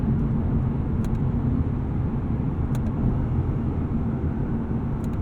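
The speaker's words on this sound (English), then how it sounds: "Show you guys what it's like to downshift here" Steady engine rumble from inside a 2019 Lexus RC F being driven in regular drive mode while downshifting, a continuous loud low drone with no clear rev spikes standing out.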